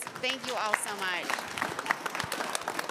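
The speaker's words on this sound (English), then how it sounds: "Please give our panelists a round of applause." Audience at a climate-action panel discussion applauding the panelists, sustained clapping that runs under a speaker's voice and some crowd noise before easing off.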